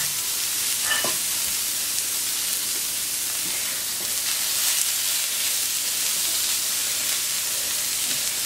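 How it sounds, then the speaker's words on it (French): Small vegetables for Asian noodles cooking on a hot plancha, a dense steady sizzle and steamy hiss running loud and close throughout, with a few faint scrapes and no talking. "je mets à cuire tous les petits légumes de la plancha de nouilles asiatiques"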